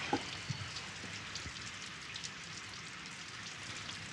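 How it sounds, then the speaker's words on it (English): Steady rain falling, a faint dense hiss of drops with a few sharper taps, continuous and unchanging throughout, with no voices. "It's the rain."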